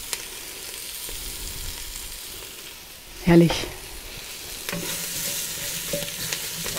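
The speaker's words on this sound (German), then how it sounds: "dauert jetzt schon ein bisschen mit dem Anbraten" Onions and sugar caramelizing in a Dutch oven for Viennese goulash, sizzling softly and steadily throughout, with a louder stirring scrape midway and a brief spoken word.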